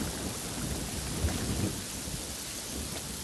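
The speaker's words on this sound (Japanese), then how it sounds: "すごい嵐になってるんですけど、" A thunderstorm in the game Yonder brings steady, dense rain with soft rumbles of thunder under it, a continuous wash of sound at moderate level with no voices.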